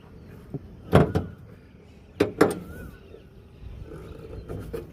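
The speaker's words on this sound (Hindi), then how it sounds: "चलो बोनट खोलता हूँ।" Opening a car bonnet: a few sharp metallic clunks and latch thumps in separate bursts, close by, with quieter rattles and handling noises in between.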